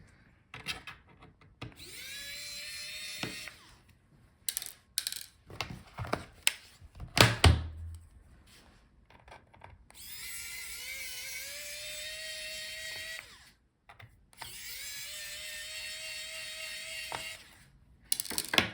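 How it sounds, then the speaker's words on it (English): A small T5 Torx screwdriver backs out the bottom screws of an HP Envy x360 15 laptop, with bursts of close, rasping ratchet-like turning separated by pauses, quiet gaps and an occasional thunk. "So start with bottom screws. You will need T5 Torx screwdriver."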